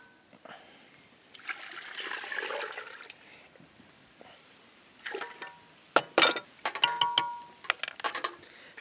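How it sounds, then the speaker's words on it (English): Room-temperature water pours into a container of spices for a taco brine in a soft, steady stream, followed by close clinks of glass and sharper splashes and trickles, with brief quiet speech near the start. "add water at room temperature"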